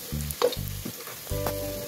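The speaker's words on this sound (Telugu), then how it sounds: "ఇప్పుడు నెక్స్ట్ వచ్చి 1 చాప్డ్ ఆనియన్ వేసుకోవాలి. Onion light golden brown colour వచ్చే వరకు ఫ్రై చేసుకోండి." Chopped onion fries in a pan until light golden brown, giving short bursts of close sizzling broken by stirring.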